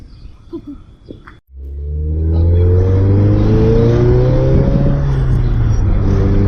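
A Chevrolet C10 pickup truck fires up after a few faint rustles, then its engine revs and pulls away, the deep exhaust rumble climbing steadily in pitch as it accelerates, loud and close.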